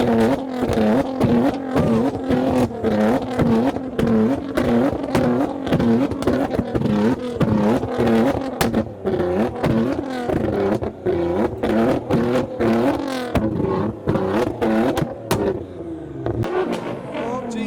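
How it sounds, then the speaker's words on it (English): Loud, rapid engine revs from a Nissan GTR and Ford Focus RS, repeated bursts of throttle with popping crackles between them, close and continuous. "GTR's revving, Focus RS, check out the cannons on that"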